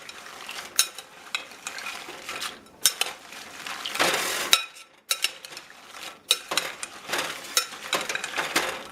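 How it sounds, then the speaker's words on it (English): Pecans being stirred and coated in an egg white mixture with a slotted spoon for cinnamon pecans, giving close, wet scraping and clinking against the bowl in irregular bursts, with no talking. "I'm going to put the egg white mixture onto the pecans."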